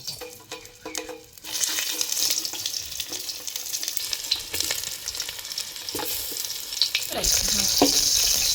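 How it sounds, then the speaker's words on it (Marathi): Brinjals sizzle in hot oil for stuffed-brinjal masala rice, a steady broad frying hiss that swells after a quiet start, with occasional stirring scrapes and a louder burst near the end. "आता ही वांग तेलात टाकायचं म्हणजे थोडंसं नाही वाकडून घ्यायचं"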